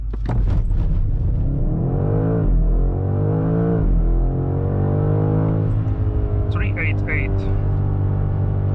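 A 2025 BMW M5 accelerates hard from a standstill without launch control, its engine note climbing loud and near through successive gear changes, with someone talking over it.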